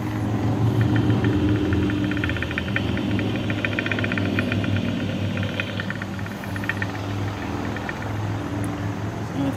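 Rotating ring and pinion gears picked up by wireless chassis ears clamped near a car's wheel bearing, a continuous close mechanical whir with rapid rattling ticks over a low hum, steady level, no talk.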